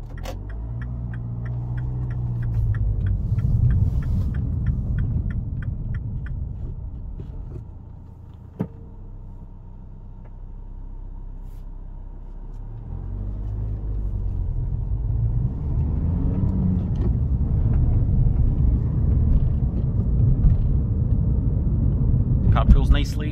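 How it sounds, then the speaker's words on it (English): Seat Leon car driving on the road, a steady low interior rumble of engine and tyres that swells and eases, with someone talking over it throughout. "Car pulls nicely."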